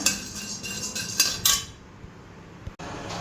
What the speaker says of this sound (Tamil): கொள்ளு நம்ம இப்போ நல்லா வதக்க போகிறோம்